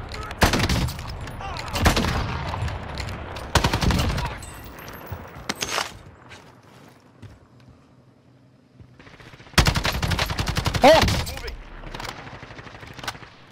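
Sharp bursts of gunfire ring out in a multiplayer shooter game, loud clusters of rapid cracks separated by quieter stretches, with faint game sounds in between.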